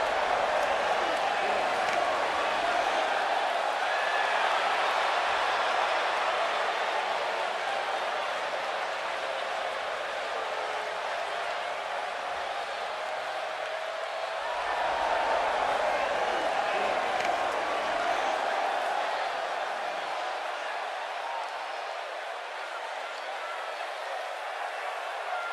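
A crowd at a wrestling match roars steadily before the bout, a continuous broad wash of cheering that dips slightly midway and then swells again.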